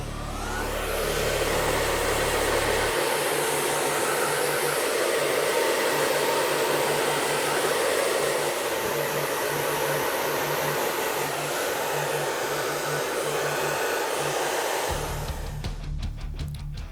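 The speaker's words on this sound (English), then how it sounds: "You don't have to work as hard with the blow dryer." Blow dryer drying a client's hair in a barbershop, a loud continuous whooshing roar that starts after a few seconds, holds steady for about twelve seconds and then cuts off, with no talking.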